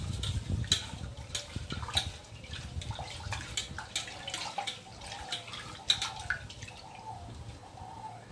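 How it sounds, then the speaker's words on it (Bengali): Rice being washed in water by hand, with soft sloshing, trickling and small drips at close range, faint and irregular throughout. "আর এখানে আমার চাটা হতে হতে আমি একটুখানি চালটা ধুয়ে ফেলি ততক্ষণে।"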